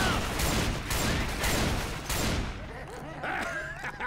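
Rapid, loud bursts of automatic gunfire from the Left 4 Dead 2 video game fill the first two and a half seconds, then fade as voices talk over a quieter game background.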